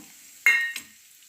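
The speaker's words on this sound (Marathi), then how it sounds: "तेल गरम झाले आहे त्यामध्ये एक चमचा जिरे घालूया" Cumin seeds and finely chopped green chillies drop into hot oil for sabudana khichdi, setting off a sudden loud sizzle that fades over about a second, with no talking.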